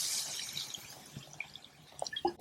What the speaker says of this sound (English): we're just gonna add water to this